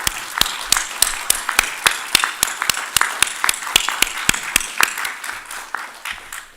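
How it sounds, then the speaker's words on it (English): A congregation at Temple Sholom of Flatbush claps in memory of Audrey, giving sharp, fairly close, evenly paced handclaps from a small group that thin out and fade near the end. "Let's give her a big round of applause"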